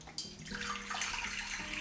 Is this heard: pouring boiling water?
yes